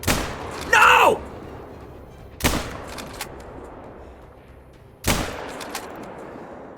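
Three sharp rifle shots in a pronghorn hunting game, spaced a couple of seconds apart, each a loud sudden crack fading quickly, with a brief shout between the first two.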